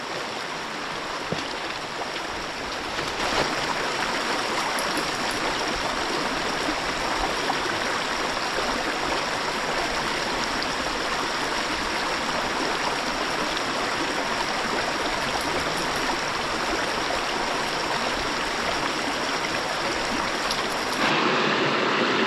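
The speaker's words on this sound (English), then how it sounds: "You just gotta kind of make your way up along the brook." A rocky brook near Irish Brook Falls rushes steadily nearby, a loud continuous broadband wash of flowing water that fills the whole stretch without a break.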